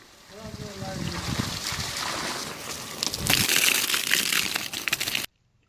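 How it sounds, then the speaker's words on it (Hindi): Water poured into holes dug in garden soil, rushing and splashing steadily and growing louder toward the end, with a voice talking over the start. "इन गड्ढों में भी डाल दूं पानी"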